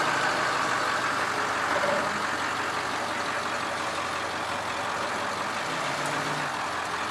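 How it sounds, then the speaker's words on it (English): A steady, heavy engine drone from an F450 wrecker tow truck lifting a car runs without a break, with no voices over it. "The car is being lifted."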